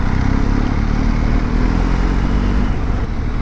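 BMW GSA motorcycle on the move, a continuous broadband engine and wind roar, loud and steady throughout with no voices.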